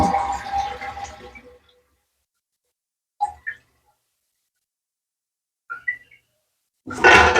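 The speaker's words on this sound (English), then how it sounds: "Next thing you want to do is flush your toilet and hold this until it's totally stopped." A household toilet flushed and then refilling: a loud rushing flush at the start that dies away, followed by quiet, short hissing and trickling bursts from the tank refilling, then a loud rush of water returning at the end.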